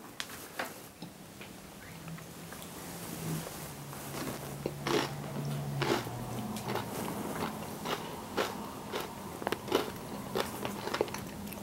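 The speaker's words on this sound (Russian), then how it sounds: "Можно есть оливье!" Someone eats Olivier salad, the mayonnaise-dressed Russian holiday dish, close by with a run of crisp bites and chewing clicks across the stretch, alone with no talk.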